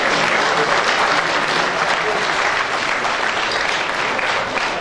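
An audience at a presidential inauguration of a chambers of commerce claps steadily throughout, a dense, even wash of applause from a crowd.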